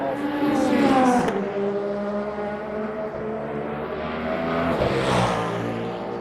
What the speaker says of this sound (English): So we have a beautiful Cadillac flyby